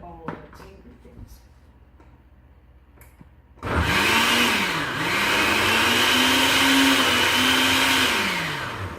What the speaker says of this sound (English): now I'll just blend all the ingredients